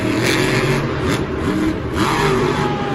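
A broken monster truck at Monster Jam Houston on a dirt track revs hard, with the engine surging and falling in loud, close rising whines over arena rumble.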